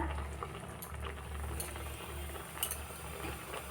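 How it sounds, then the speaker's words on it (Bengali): A pressure cooker cooks rice on a home kitchen stove while a rohu fish curry is made. It gives a steady, low, bubbling hiss that is soft and continuous, with faint clinks of utensils and no talking. "এদিকে ভাত বসিয়েছি প্রেশার কুকারটাও আওয়াজ করছে দেখো"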